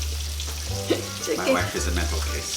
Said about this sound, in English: The chicken's frying, everything is rolling